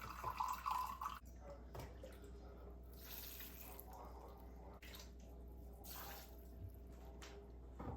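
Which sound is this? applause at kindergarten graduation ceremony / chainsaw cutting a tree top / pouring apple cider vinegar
pouring apple cider vinegar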